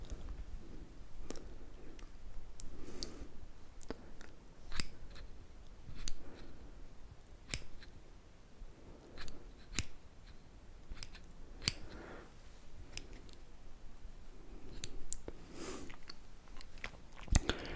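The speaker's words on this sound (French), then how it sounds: "le bruit de ce ciseau a, a une qualité intéressante" Scissors snip steadily over and over, crisp metallic clicks with a soft rasp between them, close up and alone.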